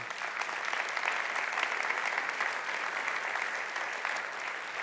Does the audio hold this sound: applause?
yes